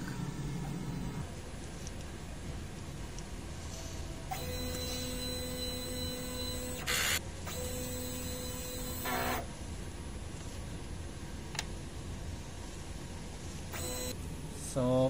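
A DTF printer runs a nozzle check print nearby, moving in mechanical passes with tonal whirring over a constant background hum, plus brief clicks between passes.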